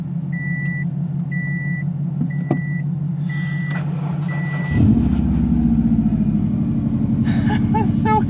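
Subaru WRX sitting unused for six months, idling with a low steady rumble while a repeating electronic warning chime beeps several times, then the engine catches and the rumble swells louder and rougher, nearby and continuous.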